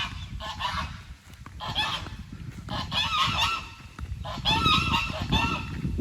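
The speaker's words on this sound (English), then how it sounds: "I just found a couple of resident geese here." Several geese honk repeatedly in loud, overlapping bursts at close range, with brief pauses between flurries of calls.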